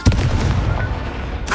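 A Confringo blast spell goes off in Hogwarts Legacy, opening with a sharp, loud impact followed by a rumbling, booming tail and a brief burst near the end.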